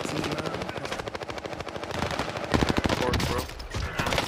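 Automatic gunfire in Call of Duty Warzone, rapid dense bursts of shots rattling close and loud throughout with scattered voices mixed in.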